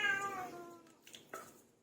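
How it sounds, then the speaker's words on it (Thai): A cat meows once, a drawn-out, moderately loud cry that trails off, followed by a few faint, soft sounds. "ขออภัยในเสียงแมวหน่อยเด้อค่ะพี่น้อง"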